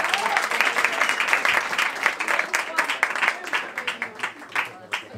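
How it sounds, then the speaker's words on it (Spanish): A concert crowd applauds for a Spanish singer, a dense, loud wash of clapping with cheering mixed in, which thins toward the end into scattered individual claps. "Un aplauso grande, por favor."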